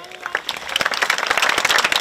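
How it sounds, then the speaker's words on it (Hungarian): A crowd at a horse riding competition breaks into applause, many hands clapping together and swelling from scattered claps into a dense, sustained ovation. "Következő versenyzőknek is nagy-nagy tapsot szeretnénk kérni"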